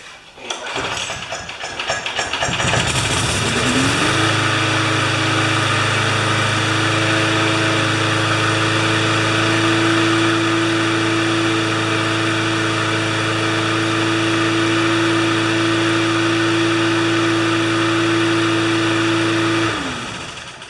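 A lawn mower filled with clean gas sputters and catches, then its small engine settles into a loud, steady close-up drone that holds for about fifteen seconds before cutting off.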